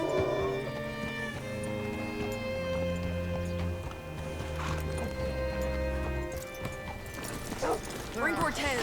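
Rhythmic hoof clip-clops from a horse in the video game Red Dead Redemption 2 over a bed of sustained music, with a brief whinny near the end.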